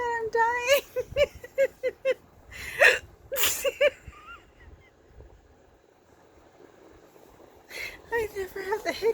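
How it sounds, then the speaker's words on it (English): A person hiccups several times in quick, sharp bursts, spaced between stretches of talking and laughter, close and clear. "I never have the hiccups."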